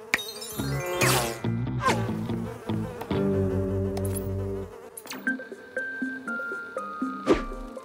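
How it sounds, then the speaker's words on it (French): Flies buzz and drone in an animated cartoon over a busy musical score, with chimes and tonal effects layered on top throughout. "toutes ces mouches autour de Sam"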